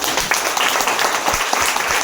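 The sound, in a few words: audience applause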